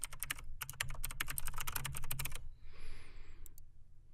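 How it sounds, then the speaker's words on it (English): Rapid keystrokes on a computer keyboard as a name and email address are typed, a dense run of clicks for about two seconds, then a pause with faint room noise and a few stray taps. "when I type in my name and my email address"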